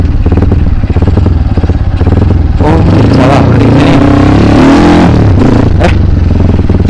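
Kawasaki KLX enduro motorcycle with an MP mono engine revving on a hill course, a loud, close, raspy engine roar that swells and rises in pitch midway, with some clatter and faint voices.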